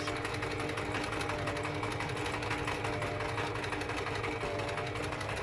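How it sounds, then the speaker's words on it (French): Sewing machine running steadily through a line of zigzag and backstitches on fabric, a continuous close mechanical whir with fine rapid needle chatter and no pauses or voices. "je fais quelques points arrière pour finir bien le dessin en fait du zigzag"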